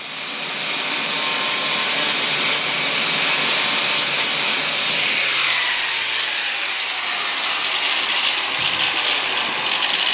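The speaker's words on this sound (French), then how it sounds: "un petit coup de ponceuse" A loud, continuous whirring grind of a power sander running steadily on car body filler, its pitch shifting slightly midway, no voices.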